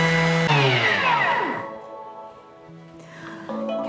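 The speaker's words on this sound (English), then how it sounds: "we are going to mill that so that we don't have lumps of salt in it" A Thermomix grinds salt on speed 10 into a fine powder, a loud, high whirring grind that surges, then fades over a few seconds as the crystals break down and the blade sweeps around.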